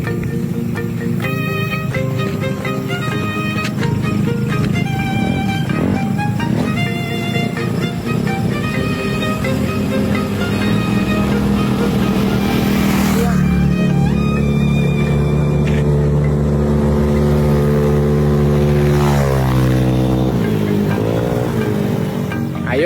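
A motorcycle engine runs loud and close, its revs climbing and falling in smooth sweeps, then winding down under engine braking, with no voices over it.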